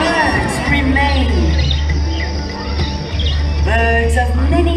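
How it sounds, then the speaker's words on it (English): Many birds chirp and whistle at a bird show in Disney's Animal Kingdom in Florida, bright calls rising in clusters over a steady low hum and a murmuring crowd. "magnificent birds from all around the world"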